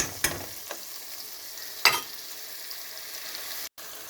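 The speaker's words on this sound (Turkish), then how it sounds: "domatesleri de güzelce harmanlayıp bu şekilde karıştırdıktan sonra" Utensil scraping and stirring tomatoes in a frying pan, with two brief clattering strokes over a steady background sizzle, close by.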